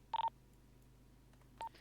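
A short burst of telephone keypad tones, three quick beeps and then one more after a pause, fairly faint over a low hum.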